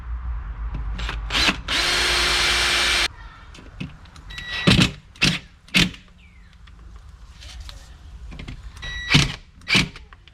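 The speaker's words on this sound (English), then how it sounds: "Now I can attach these two screws." A power drill drives two screws into a new storm door handle and latch assembly, with one long sustained whir and several short near bursts of motor spin alone.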